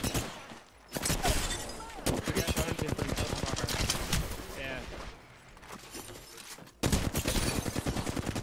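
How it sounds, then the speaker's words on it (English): Rapid automatic gunfire from the shooter Apex Legends: rattling bursts of shots in quick succession, broken by short pauses, under excited voices from players talking. "Shot at by another squad?"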